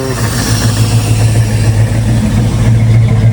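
Square body Chevy engine running on a carburetor borrowed from an Impala, a steady loud idle with a low rumbling drone and no talking.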